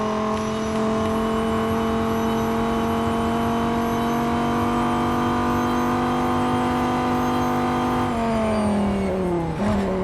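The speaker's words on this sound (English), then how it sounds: "Next is the Dodge Viper SRT10 ACRX" Dodge Viper SRT10 ACR-X engine in the racing game Real Racing 3, a loud, continuous high-revving drone that climbs steadily in pitch, then drops sharply near the end as it shifts, with no talking.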